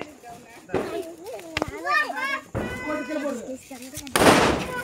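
Children shout and chatter as sharp Diwali firecracker pops burst close by, one loud crack near the end ringing out over the voices.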